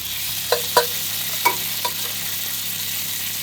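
Eggs and a little bacon frying in a pan: a steady soft sizzle and hiss, broken early on by a few sharp utensil clinks and scrapes, with no voices.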